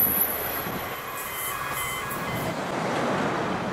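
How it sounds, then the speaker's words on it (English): N-class locomotive N474, bogie-changed onto standard gauge, roars through a rail junction as a steady broad rushing rumble with faint high squeal, fairly close and continuous. "N474, one of 4 N-class locomotives bogie changed, roars through the junction."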